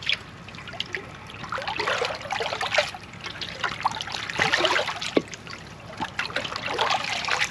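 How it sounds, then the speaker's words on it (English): Water trickles and splashes steadily into a tub being filled for sanitizing with an oxidant, a close, continuous running sound with small bubbling bursts and no voices. "So I got my tub filled with water, got the oxidant in there."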